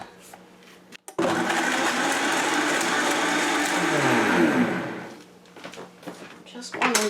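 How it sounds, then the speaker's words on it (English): A blender pulverizing dates for a frozen banana dessert, roaring loud and steady for about four seconds before winding down, with a clack at the start and speech before and after. "I'm going to pulverize the dates."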